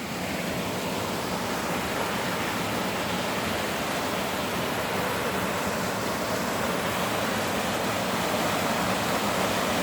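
Water rushing through a gully beside a pond at Kokanee Creek nature park, a dense, constant, roaring wash of flowing water heard close and loud with no pauses.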